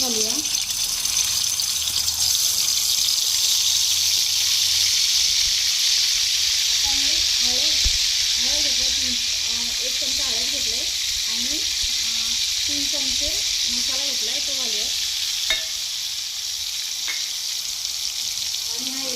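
Green masala paste frying in oil gives a loud, continuous hiss and sizzle that eases slightly midway, while a person talks over it in the middle section.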